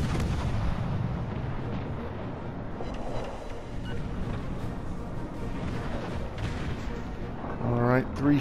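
Heavy deep booms of naval gunfire in World of Warships: Legends rumble through, several shots over a few seconds, dense and layered, without any talking.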